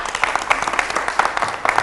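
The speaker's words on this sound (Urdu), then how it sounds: "تالیاں." Studio audience clapping during a Ramadan TV show's naat competition, a busy patter of hand claps with irregular bursts filling a short stretch, fairly close and loud, with faint voices mixed in.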